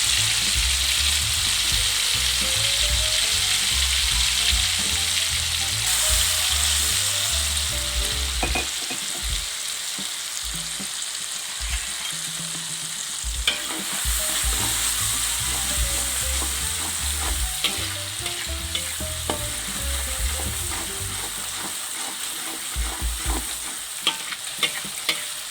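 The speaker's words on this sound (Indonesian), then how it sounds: "Setelah bumbu dihaluskan, langsung kita tumis hingga matang." Ground spice paste for fried beef satay sizzles and fries steadily in a wok, a loud, continuous crackling hiss with occasional scraping stirs, close up and free of speech.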